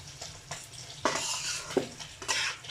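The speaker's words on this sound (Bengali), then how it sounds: "জিরার গুঁড়া দিলাম, দিয়ে এটা আমি কষায় নিচ্ছি।" Fish and ground cumin sauté in a pan, with a steady sizzle under repeated scraping and stirring strokes of a utensil, close up.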